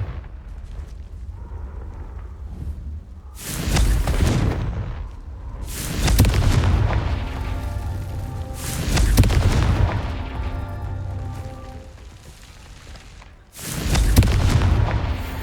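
The Confringo blasting spell going off in Hogwarts Legacy during the Merlin trials: four heavy, booming explosions spaced a few seconds apart, each a loud burst followed by a rumbling decay over low background ambience.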